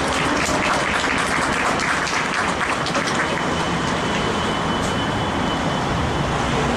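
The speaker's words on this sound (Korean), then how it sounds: "박수 한 번만 더 주시면" A crowd at an outdoor candlelight rally of writers claps, a broad wash of applause merged with heavy roadway and traffic rumble that stays loud and unbroken throughout.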